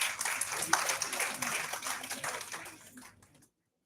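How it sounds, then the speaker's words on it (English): Classroom audience of students applauding during a faculty development session, a dense burst of clapping that holds steady for about three seconds and then tapers off to silence. "you deserve a clap. Applause."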